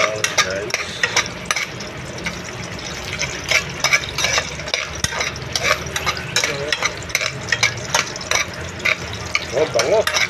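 Garlic sizzling in a pan with coconut milk while cooking chicken with vegetables, a steady crackling fry with scraping and stirring clinks, under intermittent talk.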